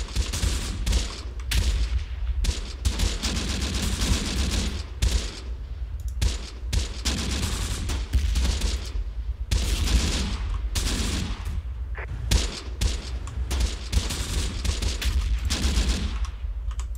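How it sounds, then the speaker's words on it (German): Gunfire in the WWII tactics game Close Combat: The Bloody First, with repeated bursts of rifle and machine-gun fire crackling in uneven clusters across the whole span, some shots sharp and near, others softer and overlapping. "Von hier oben wird irgendwo geschossen."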